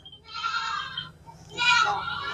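A Rajanpuri Gulabi milking goat bleats twice up close, two loud, wavering cries separated by a short gap.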